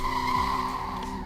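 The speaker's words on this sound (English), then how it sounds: "it does a bit of a burnout when you leave." A car in the Roblox game Greenville, Wisconsin, an unreleased model, squeals its tires in a short burnout, with a sustained screech over the engine drone, loud and close.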